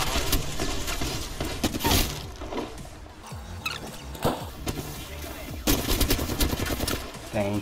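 Rapid bursts of Flatline assault rifle fire in the battle royale game Apex Legends, loud, repeated volleys with short gaps and a brief lull midway, over dense game noise.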